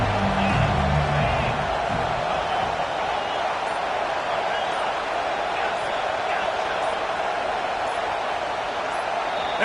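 A stadium crowd in the NCAA 25 college football video game keeps up a steady, dense roar through the whole stretch, loud and sustained with no break.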